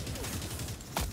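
An autocannon fires in Helldivers 2, a single heavy shot punching through a dense wash of loud battlefield gunfire noise.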